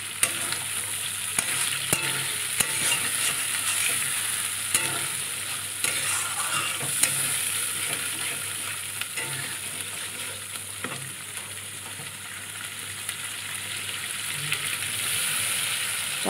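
Bay leaves, peppercorns, whole garam masala, coriander and cumin sizzle steadily in oil while being stirred for a koi fish curry, a close, continuous frying hiss with occasional scraping.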